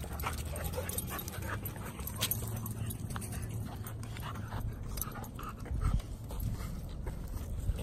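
Husky dogs whimper and pant while playing, with soft whines and scuffling close by over a steady broadband background, one brief louder burst near the end.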